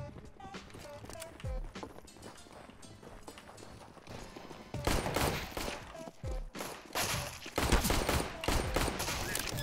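Rapid video-game gunfire crackles in dense bursts, mixed with clattering in-game effects, with the heavier volleys concentrated in the second half of the clip.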